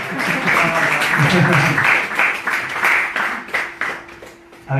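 At a Sunday spiritual talk, an audience gives a boy a round of applause, close, lively clapping that swells then thins out and fades near the end, with a voice speaking beneath it.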